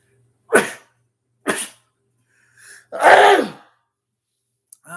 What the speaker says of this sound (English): Sorry for the sneezing, y'all.